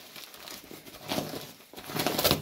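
Plastic-wrapped package being cut open with scissors, a few short bursts of crinkling and rustling plastic close by, growing louder toward the end, no voices.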